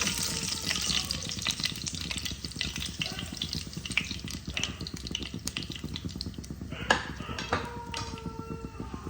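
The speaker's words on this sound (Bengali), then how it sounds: "এবার আমি এই তেলেই দেখো দারচিনি, এলাচ আর লং ফোড়নে দিয়ে দিলাম।" Whole cinnamon, cardamom and cloves crackle in hot frying oil left over from frying fish for a Bengali doi katla, under busy kitchen clatter of utensils against the pan and a few sharp metallic clinks near the end.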